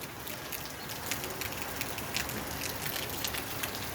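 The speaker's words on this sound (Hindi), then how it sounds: "पांडे पाची बारिश चालू हो गई है।" Rain falling steadily, a dense, even hiss of drops on surfaces with occasional louder patters, continuous and fairly close, with no voices.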